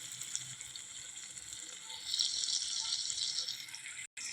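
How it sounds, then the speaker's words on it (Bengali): Water being poured into a pan of prawn and potato curry after the spices are fried, a steady hissing splash and sizzle at close range, growing louder midway with a brief cut near the end. "এবারে জল দিয়ে দেবো বন্ধুরা।"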